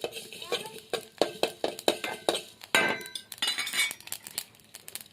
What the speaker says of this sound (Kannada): ಚಮಚ ಇಟ್ಟೆ ರಚ್ಚು.